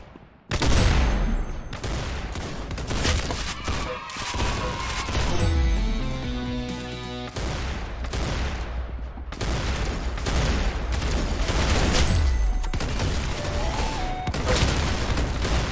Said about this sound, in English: You got him! Very good shooting